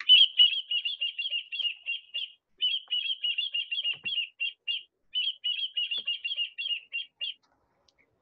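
American avocet calls from a coastal wetland habitat: rapid, repeated sharp high-pitched notes in steady bursts, with short pauses between runs, clear and fairly close, no talking.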